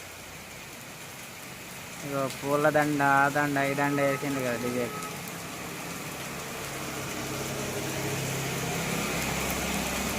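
Heavy rain pours down in a steady broadband hiss through the whole stretch, while someone talks close by over it for a few seconds near the start.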